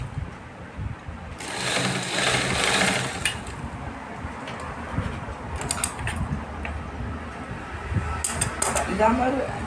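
A sewing machine runs in steady bursts while stitching the double-folded sleeve hem of a blouse, its motor whirring at close range with a voice faintly present at times.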